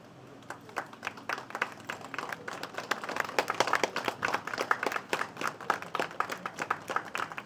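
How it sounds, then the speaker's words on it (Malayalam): Crowd applause at a film title launch for Amoz Alexander in Thodupuzha, a dense patter of many hands clapping that starts sparse and swells into steady, fairly close clapping across the whole stretch. "നല്ലൊരു കയ്യടി"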